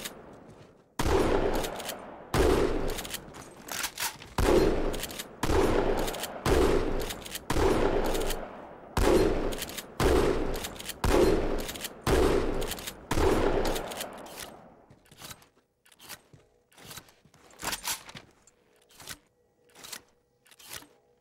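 A regular shotgun from the Halo games firing about a dozen loud, evenly spaced blasts with short decays, then a quieter stretch of faint clicks and handling sounds as the shooting stops.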